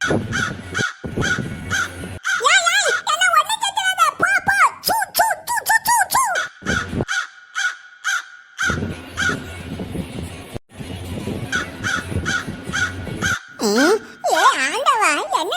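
Repeated harsh caws from cartoon crows in an animated Tamil children's cartoon, loud and close in bursts, broken by brief silences and mixed with other cartoon bird-like squawks and background music.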